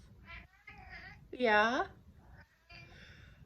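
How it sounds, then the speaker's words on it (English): A house cat lets out one clear, drawn-out meow in a quiet indoor room, with a person speaking softly before and after it. "That's my cat."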